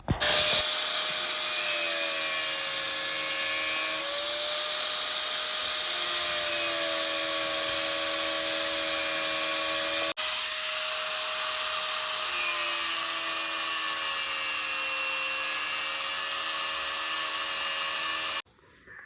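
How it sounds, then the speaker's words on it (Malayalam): Power cutter grinding through an 8 mm concrete steel rod, a loud, steady high-pitched whine with a brief break midway before resuming, then stopping abruptly near the end. "ഇതിന് എയ്റ്റ് എം എമ്മിൻ്റെ ഒരു കോൺക്രീറ്റ് കമ്പിയാണ് എടുത്തിരിക്കുന്നത് അതിന് ആദ്യമായിട്ട് നമുക്ക് എഴുപത്തഞ്ചിൻ്റെ ഒരു പീസ് കട്ട് ചെയ്തെടുക്കാം"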